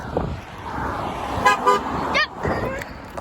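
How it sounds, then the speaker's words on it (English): Car horns honking at a park, two short toots near the middle and another quick honk just after, loud and near over street noise with faint voices. "He gave me a little tap on a honk."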